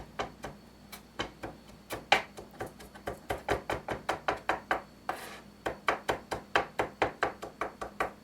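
A knife mincing celery leaves chops rapidly on a cutting board, a fast, even series of crisp taps close by that speeds into a steady rhythm.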